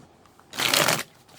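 A tarot card deck is shuffled in a single brisk riffle lasting about half a second, close and clear against a quiet room with no talk.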